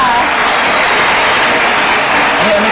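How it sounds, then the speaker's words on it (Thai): A Thai TV show's studio audience claps in a loud, dense, steady round of applause that fills the whole stretch without pause. "เอาปรบมืออีกทีหนึ่งได้ไหม"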